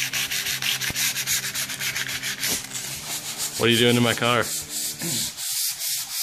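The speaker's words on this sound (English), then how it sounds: "Sanding down the primer." A close, steady rasping rub of sandpaper working down primer on a car body, repeating in strokes while a voice speaks briefly over it near the end.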